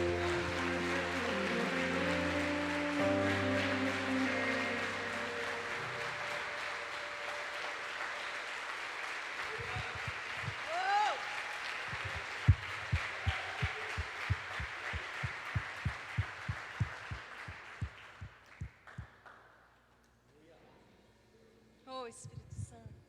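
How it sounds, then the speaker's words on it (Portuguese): A church congregation applauding during a worship service: a broad wash of clapping blends with fading music, then settles into rhythmic, evenly spaced claps that gradually thin out and stop, leaving near silence before faint sounds at the end. "Você pode aplaudir a Ele mais uma vez?"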